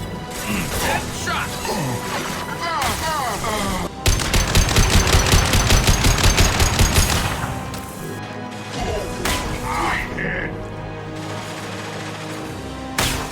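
Gunfire in the Mass Effect 2 Arrival mission, with loud, close weapon fire, scattered shots and impacts, and a rapid rhythmic burst of automatic fire in the middle amid mechanical clatter.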